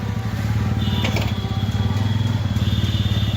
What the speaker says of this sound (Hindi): साउंड भी देखो, ये एग्जॉस्ट जो है स्टॉक एग्जॉस्ट है, साउंड भी इसकी बहुत अच्छी आ रही है